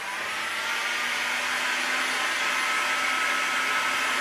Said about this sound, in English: you can use a hot air gun and then just heat them up